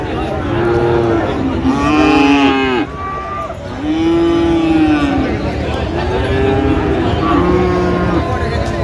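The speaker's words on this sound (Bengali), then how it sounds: "ফ্রিজিয়ান নামে ক্রোসের ষাঁড় বাচ্চা যেখানে বেচা কেনা হচ্ছে," Friesian crossbreed bull calves at a cattle market in Dinajpur, several loud nearby moos in a row over a busy crowd murmur, with people talking in the background.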